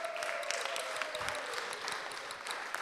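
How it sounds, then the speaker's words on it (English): Steady, dense applause from an audience at a resolution presentation honoring parents, filling the room evenly at moderate loudness without a break. "So let's go ahead and give them a huge round of applause."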